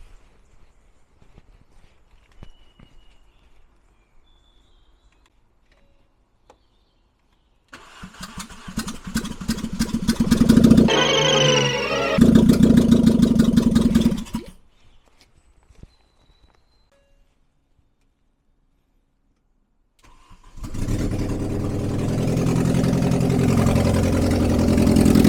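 An old car engine cranking repeatedly with a chugging starter rhythm, then catching and running roughly for a few seconds before cutting out; after a quiet pause it cranks again into a loud, steady run.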